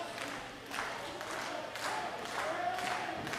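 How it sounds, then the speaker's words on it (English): A wrestling crowd applauds and cheers for a wrestler in an arena, a steady wash of clapping with swelling bursts, continuous and moderately loud throughout. "I think Cassidy got a bigger ovation than Fantastic did"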